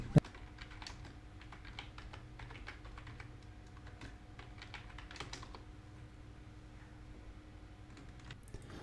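Quick bursts of keystrokes on a computer keyboard, clicking in uneven runs with short pauses, close and fairly quiet with no speech.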